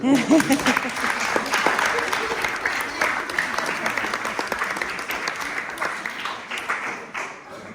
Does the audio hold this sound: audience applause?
yes